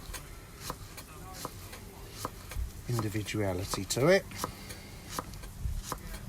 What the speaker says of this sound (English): And then let's just cut that almost just at an angle.